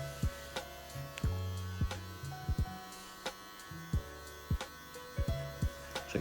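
Electric wall hair clippers with guards run in a steady low buzz during a home taper haircut, the hum shifting in pitch as the blades bite, punctuated by regular sharp clicks and taps, close and moderately quiet, no talk.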